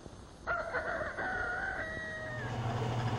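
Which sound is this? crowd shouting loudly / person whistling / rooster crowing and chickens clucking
rooster crowing and chickens clucking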